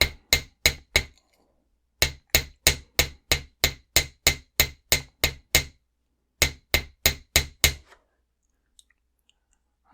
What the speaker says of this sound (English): we're going to hammer again about 1/4 of an inch.